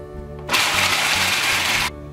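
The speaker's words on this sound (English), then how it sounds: "I'm gonna take my pretzels, I'm gonna put them in a food processor, and then I'm gonna just blend them" A food processor whirs loudly as it grinds pretzels to fine crumbs, a single burst of harsh buzzing chopping that starts abruptly and cuts off about a second and a half later.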